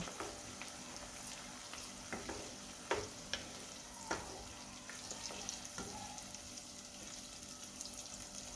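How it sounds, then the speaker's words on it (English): Tomatoes frying in a garden egg stew, a soft continuous sizzle punctuated by scattered spoon clicks and scrapes as the pot is stirred. "You will then add our tomatoes. Then you stir."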